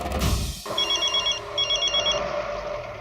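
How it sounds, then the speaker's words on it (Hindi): A telephone bell rings in two short repeated bursts after a thud, heard close and clear over a low background hum, with no talking. "जेठालाल का फोन है"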